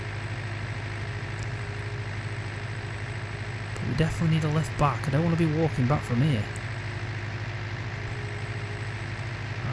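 A tractor engine in Farming Simulator 19 drones with a steady, low hum throughout, while someone talks over it in the middle.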